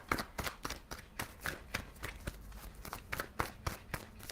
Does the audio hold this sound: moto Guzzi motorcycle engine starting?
no